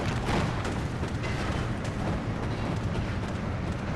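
Bombs explode in Steel Division 2, creating a thick, steady rumble of distant blasts. Scattered sharper bursts cut through the dense low roar for the whole stretch.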